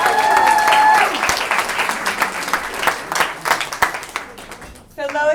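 Audience applause at a small women's improv gathering, a dense wash of clapping with a cheer and a voice over it early on, fading away near the end before a brief spoken exclamation.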